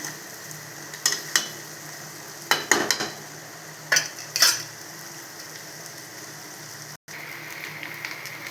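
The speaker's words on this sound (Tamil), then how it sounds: "சிம்மில் வச்சு முறுமுறுன்னு வர வரைக்கும் வறுத்து எடுத்துக்கிடலாம்." Taro root (colocasia) fries crisp over a low flame, giving a steady soft sizzle broken by several sharp clinks and scrapes of a stirring spoon against the pan.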